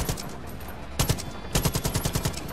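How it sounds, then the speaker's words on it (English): Gunfire in Far Cry 5 aimed at Jacob, a fast automatic burst, then a brief pause before a longer run of rapid, loud, close shots. "I'm actually gonna shoot this Jacob"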